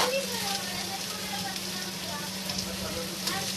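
Potato, onion and green chilies frying in a pan, a steady close sizzle throughout.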